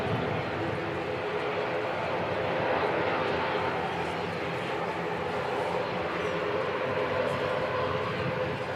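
An airliner, flight NZ5788 bound for Rotorua, departs Christchurch Airport in wet, windy weather, its steady broadband engine roar filling the air continuously at a sustained, fairly close level with no pauses.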